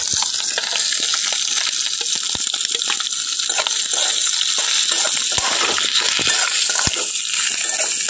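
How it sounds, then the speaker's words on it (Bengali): Eggs frying in oil in a wok over low heat, a dense, even sizzle with scattered pops and crackles throughout, close and steady with no voices. "ডিমগুলোকে হালকাভাবে আঁচটা কমিয়ে ভালো করে ভেজে নেব।"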